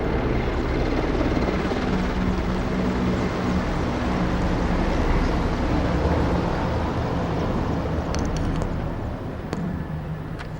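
Military helicopters carrying flags fly over the Republic Day parade in New Delhi in 1993, a loud, continuous rotor drone that stays close throughout.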